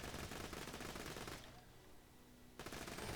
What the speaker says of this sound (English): So, hip fire Infinity,